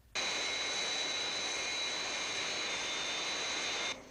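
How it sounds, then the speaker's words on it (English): Fireflash Mach 6 atomic airliner from Thunderbirds, its jet engines giving a steady, even high-pitched whine and roar that sustains for several seconds and then cuts off abruptly, with no speech over it. "The new Fireflash Mach 6 atomic airliner is in distress at London Airport."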